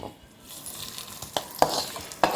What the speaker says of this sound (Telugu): ఒక మారు అంతా కలుపుకోవాలి.